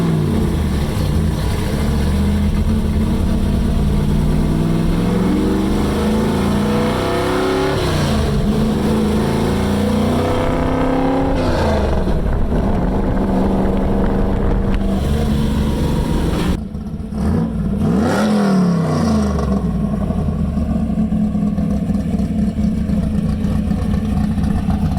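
The engine of a 1971 Oldsmobile Cutlass muscle car being revived roars continuously and loudly, revving up and down in repeated surges with rough, throaty bursts and a brief dip midway, with no voices.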